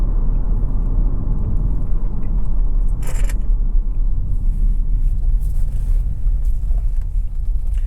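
A 2024 Chevy Trax 2RS making a U-turn gives a steady, loud low rumble of road and engine noise from inside the cabin, with a brief rattle partway through and no talking.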